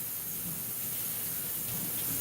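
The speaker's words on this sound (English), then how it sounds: "So I'm just washing out my blender." Water runs steadily from a tap as a blender is rinsed out in a home kitchen, a continuous hissing wash with no talking.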